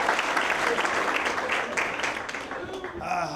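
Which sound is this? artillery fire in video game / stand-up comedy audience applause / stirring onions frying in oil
stand-up comedy audience applause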